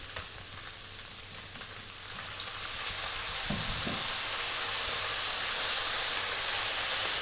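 Light soy sauce hits a hot pan of tofu fried rice and sizzles with a broad, steady hiss that gradually swells louder, with a few soft stirring scrapes midway.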